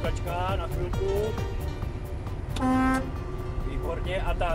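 A new fire truck sounds a short, loud horn blast alongside idling engine noise, heard nearby amid people talking.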